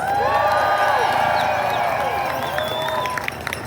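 A rally crowd at a No Kings protest in Boston cheers and whoops for veterans, with shouted voices and scattered clapping that stay loud throughout, then thin out slightly near the end.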